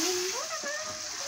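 Water is poured into a cooking pot in a home kitchen, a short close splashing pour with a voice talking over it.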